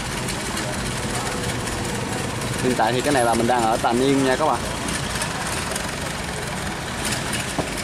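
Engine idles in a steady low drone beside a busy Vietnamese river, with someone talking over it midway through.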